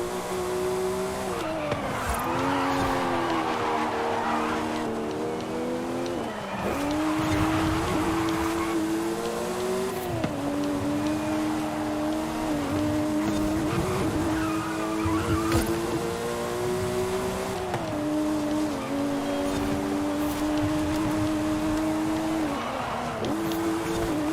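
Race cars in a Forza Horizon 5 video game race give off a continuous loud engine drone that rises and falls with repeated gear shifts, while tire squeals and skids break in through the run.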